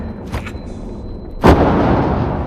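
A grenade blast in the video game Wardogs: a short muffled thump comes first, then a single loud, close explosion that leaves a long rumbling tail.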